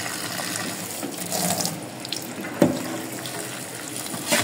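Water runs from a tap while something is washed beneath it, a steady close splashing hiss with small clunks and one sharper knock partway through, no talking.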